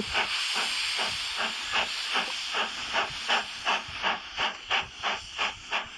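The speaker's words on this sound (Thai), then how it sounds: "นี่นะครับรถไฟออกพอดีเล" Steam locomotive pulling away in the mobile strategy game Last War: Survival, a loud steady hiss overlaid with rhythmic chuffs that quicken and grow stronger as the train gets moving.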